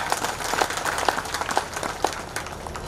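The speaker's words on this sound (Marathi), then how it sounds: "अरे भाई तालियां बजानी है तो ऐसी बजाओ हमें भी जोश आ जाए" An audience clapping during a Marathi kirtan, many hands beating together in a lively, fairly even rhythm, full and close throughout.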